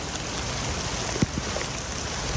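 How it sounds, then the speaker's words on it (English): Steady monsoon rain pours over an outdoor city civic center mall under renovation, a dense continuous hiss with a few louder drips and splashes nearby, no voices. "This rain and everything's kind of making it a little tricky to do anything here."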